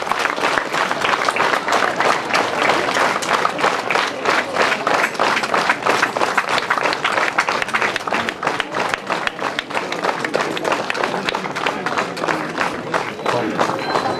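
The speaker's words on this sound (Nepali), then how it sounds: "प्यारी भाइ बहिनीहरू, ताली।" Loud, sustained applause from a large crowd at a college campus inauguration ceremony in Gorkha, Nepal, dense rapid clapping that continues evenly for the whole stretch.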